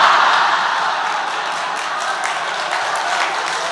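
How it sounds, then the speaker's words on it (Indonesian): A church audience listening to a Catholic priest's sermon breaks into a sustained round of applause, a dense, even wash of many hands clapping that starts loud and settles into a steady level with no voices over it. "Jangan tepuk tangan, bertobatlah."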